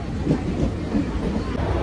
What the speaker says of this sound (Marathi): आधी ट्रेन पकडते